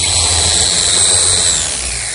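Router with a half-inch bit easing the edge of a wooden Queen Anne table top makes a loud, close, steady high-pitched whine and cutting roar that fades slightly at the end.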